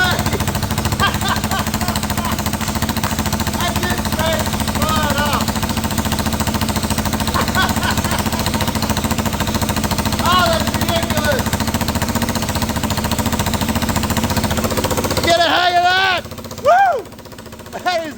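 A Suzuki DRZ400 motorcycle found on the roadside, with a suspected blocked carburettor and the choke on, runs loudly and roughly in a steady drone that drops away near the end as voices come in.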